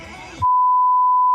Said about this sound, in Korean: 지금 소리도 원래 알림 소리랑 다르게